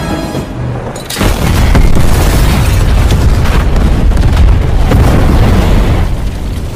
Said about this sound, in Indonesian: ternyata terjadi ledakan di sana.